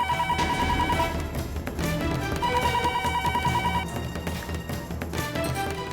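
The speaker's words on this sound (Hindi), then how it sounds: "ये ममता फोन क्यों नहीं उठा रही है?" An unanswered telephone rings on and on indoors, its steady trilling tones sitting amid background music and room noise.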